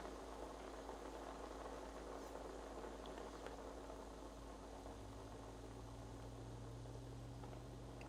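A pot of water boiling with potatoes on a stovetop gives off a faint, steady bubbling hiss with a low constant hum beneath, unbroken throughout.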